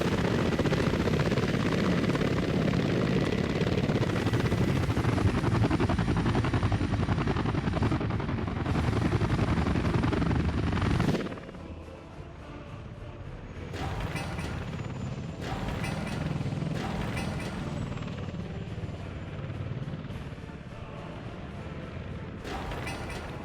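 A Sky Crane helicopter in the city-building game Workers & Resources thumps with a loud, dense rotor drone that cuts off abruptly partway through, followed by quieter mechanical clatter and bursts of game sounds.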